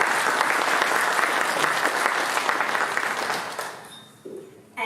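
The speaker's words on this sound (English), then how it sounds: "Let's give Heather a round of applause" Sustained audience applause at an energy technology showcase, dense and steady clapping for about four seconds before dying away, followed by a brief quiet moment.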